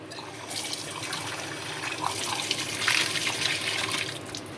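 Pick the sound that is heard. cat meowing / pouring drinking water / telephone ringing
pouring drinking water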